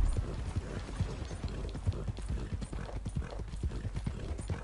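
Horse galloping in Red Dead Redemption 2, a steady rapid clip-clop of hooves close by, with rhythmic thuds running throughout and a faint whinny-like tone.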